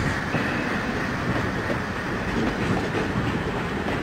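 A train rolls along a track in the Trainz Simulator game on the Visakhapatnam route, with a steady, continuous rumble and a dense rattle of wheels on rails. The sound is close and even throughout, and no one speaks.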